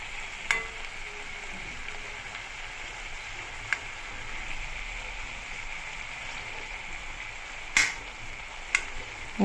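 Mixed vegetables sizzle in a wok with a steady hiss, interrupted by a few sharp clinks and scrapes of stirring, close by and without talk.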